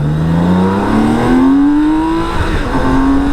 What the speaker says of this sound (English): Motorcycle on the way out.